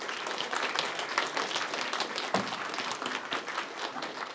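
An audience at a school folk-custom review in Bibice, April 2012, applauds a school group with dense, steady clapping that stays full and lively throughout.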